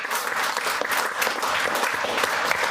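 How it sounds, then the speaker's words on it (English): An audience applauds a speaker at the close of a leadership talk, a full, steady roar of many hands clapping together that holds evenly throughout with little other sound. "let's give Rob a final round of applause"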